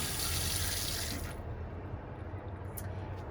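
Water runs from a faucet inside a 2014 Mercedes Sprinter campervan in a steady hiss, then shuts off abruptly, leaving a quieter low hum with faint drips.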